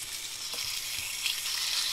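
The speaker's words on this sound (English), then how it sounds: "Hear the sizzle." Steady, bright sizzling of steaks searing in a hot skillet, close and continuous with no talking.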